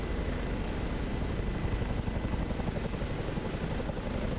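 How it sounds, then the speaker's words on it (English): A Chinook helicopter in Microsoft Flight Simulator, a continuous loud rotor and engine roar with a steady throbbing texture, sustained throughout without speech. "You can hear that Chinook. Isn't it stunning?"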